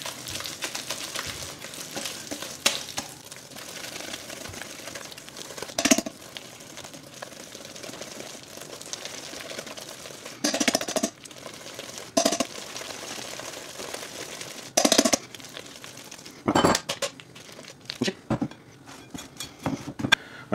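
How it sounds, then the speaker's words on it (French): Sablé cookie dough for cranberry biscuits is beaten with lemon juice in a bowl until creamy, giving quiet rhythmic clicking and tapping of a utensil against the bowl, with a few sharper knocks. "on va mélanger le tout. Il faut que le mélange soit bien crémeux"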